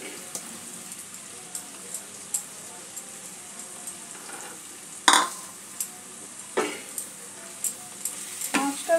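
Katla fish being stirred into fried winter vegetables and nearly cooked potatoes in a pan, with soft sizzling under scattered scraping and clinking strokes of a spoon, a few sharper knocks midway, fairly close.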